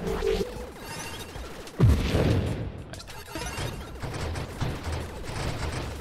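Rapid triple-shot weapon fire crackles continuously in dense bursts, with a heavier booming impact partway through, all loud and close, in the video game Nova Drift.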